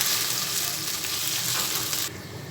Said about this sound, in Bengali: আদা রসুনের কাঁচা কাঁচা গন্ধটা চলে যাওয়া পর্যন্ত এটাকে খুব ভালো করে ফ্রাই করে নিতে হবে